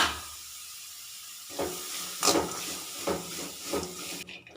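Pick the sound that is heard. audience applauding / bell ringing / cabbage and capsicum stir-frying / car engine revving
cabbage and capsicum stir-frying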